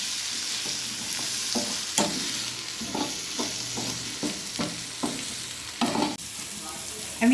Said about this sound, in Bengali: এবার সবজিগুলো প্রায় ভেজে নিয়েছি